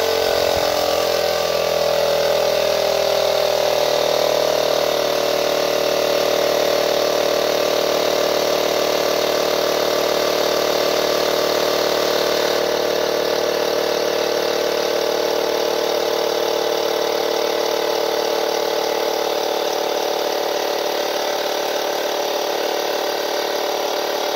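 A small motorcycle air ride suspension compressor runs steadily on a bike clamped to a lift, giving a continuous loud mechanical whine and buzz that holds for about 24 seconds with no talk.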